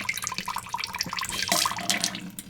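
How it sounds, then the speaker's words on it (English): Cold water runs from a kitchen tap fitted with a Whirlpool reverse osmosis filtration system, an irregular splashing and trickling flow with drips, moderately close and with no voices. "So if I turn on the cold water from the tap water,"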